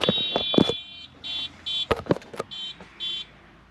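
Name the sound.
beeping horn of a small farm vehicle chasing cows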